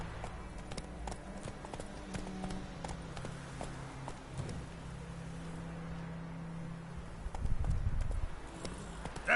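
Roach the horse's hooves in The Witcher 3 beat a steady, fairly quiet clip-clop over a low rumbling game background, swelling louder near the end.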